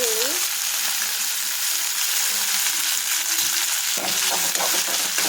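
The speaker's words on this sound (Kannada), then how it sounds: "ಇಲ್ಲಿ ಎಣ್ಣೆ ಕಾಯಿಸ್ಕೊಂಡಿದ್ದೀನಿ, ಅದಕ್ಕೆ ಸ್ವಲ್ಪ ಸಾಸಿವೆ ಮತ್ತು ಜೀರಿಗೆ, ಕರಿಬೇವು," Onion frying in hot oil with mustard seeds, cumin and curry leaves, giving a steady close sizzle with stirring clatter through the end, all without speech.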